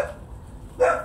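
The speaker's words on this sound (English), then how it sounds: "that's my dog's barking." A dog barks once near the end, a single short bark at moderate distance following a brief quiet stretch.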